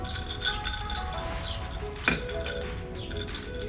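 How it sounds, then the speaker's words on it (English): A spoon clinks lightly against a glass while stirring a lavender whiskey cocktail with mint, giving a string of small, close, bright taps with steady rhythm and one sharper knock midway. "Do a delicious stir right here around the glass."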